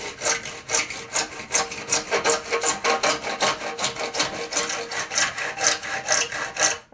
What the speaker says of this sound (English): A tenon saw's got quite a fine cut, that's why I'm using it.